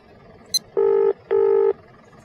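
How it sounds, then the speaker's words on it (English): A telephone keypad in the video game Barrow Hill gives a short high beep, then two long, loud dial tones sound one after another against a quiet background. "Just learning how to use the phone."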